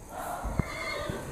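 A horse gives a short neigh inside a stable, with faint hoof clip-clop against a quiet indoor background.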